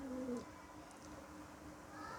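Pigeons coo faintly at a distance in a quiet setting, a low soft call heard briefly near the start over a background hum.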